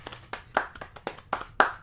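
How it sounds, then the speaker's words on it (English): Scattered, uneven hand claps from a small open mic audience, about seven distinct claps spread over under two seconds, fairly close and fading after each one, with no talk over them. "You're clapping because I muted my guitar channel"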